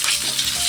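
Long strips of potato and green banana, salted, fry steadily in hot oil, giving a close, continuous hiss and sizzle with no talking.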